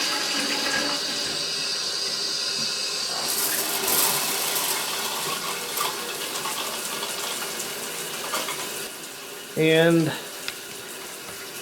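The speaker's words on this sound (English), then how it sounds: "now all the water's coming out of the shower head and none out there" Water runs steadily from an older Price Pfister three-valve bathtub faucet and shower head in a bathroom, a continuous hiss with a louder surge near the end and a brief spoken word.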